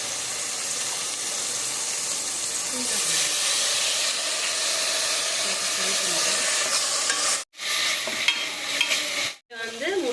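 Onions fry in oil in a pan for a Kumbakonam-style prawn biryani, a dense continuous hissing sizzle that swells midway and is cut by two brief silent gaps, with faint talk in the background.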